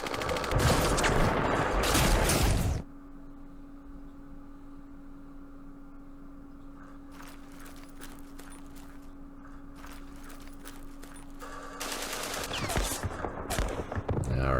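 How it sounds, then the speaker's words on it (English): Gunfire from the Vietnam War strategy game Campaign Series Vietnam: a loud burst of rapid, dense shots at the start and again near the end, with a quieter steady hum in between. "Hopefully our opportunity fire sounds good there."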